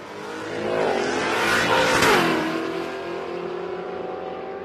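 Big block split window street car, a ten-second drag car in an aspirated class, launching at a drag strip, its engine revving up through rising gear sweeps, loudest as it passes near, then fading down the track.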